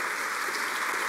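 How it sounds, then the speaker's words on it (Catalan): A brief, steady burst of audience applause at a literary awards ceremony in Girona, a dense, even patter of clapping hands with no voices over it. "Un aplaudiment per ell"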